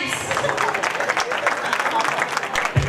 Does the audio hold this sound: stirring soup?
no